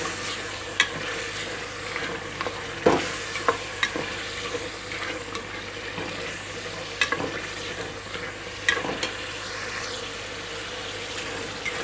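Bhuna gosht beef frying and being stirred in a pan, a soft steady sizzle broken by irregular scraping strokes and knocks of the spoon against the metal, close and moderately quiet.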